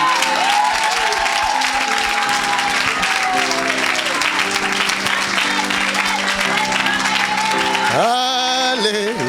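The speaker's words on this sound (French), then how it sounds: "acclamez pour Jésus" A church congregation applauding and cheering for Jesus, loud sustained clapping from a large crowd with rising cheers toward the end.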